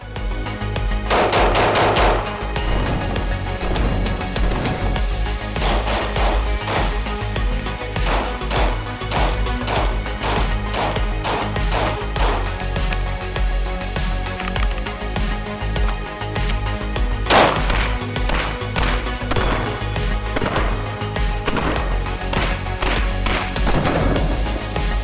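An FN HiPer pistol is test fired on a shooting range: repeated sharp, loud shots ring out over a steady droning background throughout.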